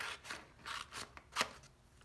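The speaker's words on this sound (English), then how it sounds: "Taking my scissors, very carefully cutting on that line of my triangle." Scissors snipping through paper while cutting out a triangle for a handmade envelope, a few quick soft crisp snips close by and quiet, with no talking.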